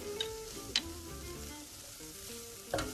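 Garlic and turmeric fry in a pan at medium-high heat, giving a steady close sizzle, while a utensil pushes them around with a few scraping clicks.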